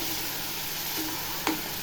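Steady sizzling of peas being sautéed in a pan, with a faint stir or scrape partway through.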